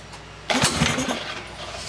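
A 1980s Suzuki DT-25 two-stroke outboard engine running roughly, with a sudden loud burst of sputtering and popping backfires that then settles into an uneven, close, rumbling idle.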